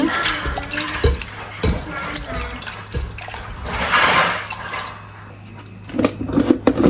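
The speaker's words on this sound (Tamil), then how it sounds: "மஞ்சள் போட்டு இறைச்சியை வடிவாக கழுவி எடுப்போம்" Goat meat is washed with turmeric under running water, giving splashing, dripping and sloshing in a sink with uneven bursts and a short quieter pause near the end.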